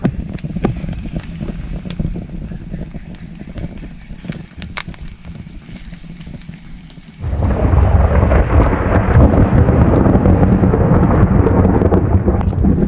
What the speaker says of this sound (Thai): ตอนนี้ ฟ้าก็ร้องเสียงดังมากนะครับ ทุกคนได้ยินไหมครับ